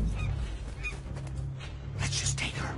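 A goose honks several times in short, fairly close calls, with people talking quietly nearby.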